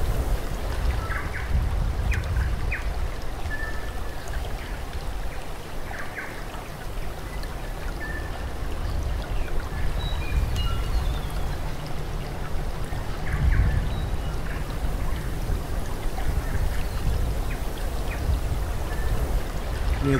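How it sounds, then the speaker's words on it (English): Ambient flowing-river effect playing on a model railway layout, a steady broadband rush of water with scattered faint chirps and clicks, continuous and fairly loud throughout. "Seems daft having the river sound and not having an actual river there."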